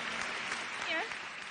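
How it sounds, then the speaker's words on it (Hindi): A studio audience on an Indian TV show claps steadily for Katrina Kaif, soft continuous applause with a faint voice briefly over it. "जोरदार तालियां कटरीना कैफ के लिए"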